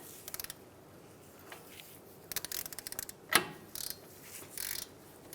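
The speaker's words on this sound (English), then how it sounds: "we're going to go ahead and tighten down our castle nut" A ratchet clicks in quick bursts while a castle nut is tightened on the outer tie rod end of a 2007-2015 Mazda CX-9, with a sharp metallic clank between the bursts.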